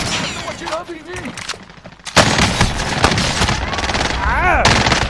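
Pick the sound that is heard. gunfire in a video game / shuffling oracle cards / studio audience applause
gunfire in a video game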